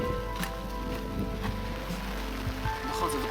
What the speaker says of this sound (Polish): Jedna wielka ściana deszczu.